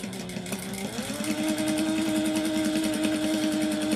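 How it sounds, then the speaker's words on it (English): A sewing machine stitches a fabric seam for a crossbody bag at a quarter-inch seam allowance with a stitch length of 3, running in a steady, fast mechanical whir with rapid rhythmic needle ticks after a brief start-up. "sew this together at 1/4 of an inch"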